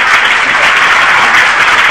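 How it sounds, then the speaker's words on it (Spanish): A children's audience at a puppet show claps loudly and steadily, a close, continuous wash of applause with no talking over it. "Le damos al aplauso a la leche"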